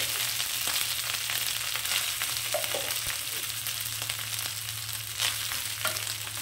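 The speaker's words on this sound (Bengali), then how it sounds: "ভাতটাকে আমি খুব ভালো করে ভেজে নেব" Cooked rice fries with spices in a pan, a steady, close sizzle with occasional stirring clicks and scrapes throughout and no voices.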